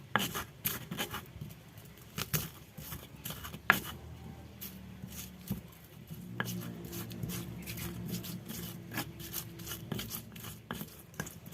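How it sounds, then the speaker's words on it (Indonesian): Kencur, garlic, bird's eye chili and salt ground with a pestle in a stone mortar, a close, steady grinding and rubbing with scattered knocks, first sparse and then continuous, with a voice murmuring briefly partway through. "Kita ulek dulu kencur, bawang putih, cabai rawit,"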